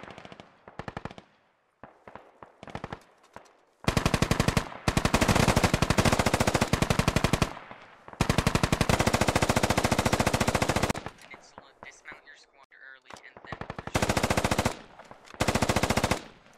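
Gunfire exchange in the tactical shooter game Squad, with sharp scattered single shots giving way to long loud bursts of automatic fire, then more short volleys and a final sustained burst, with no voices heard.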